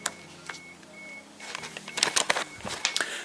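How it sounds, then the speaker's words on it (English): A car signal light wired from ground straight to power gives thin, high repeated beeps, faint at first and then mixed with clattering handling noises and rustling close to the microphone. "the beep will come on in 3, 2, 1."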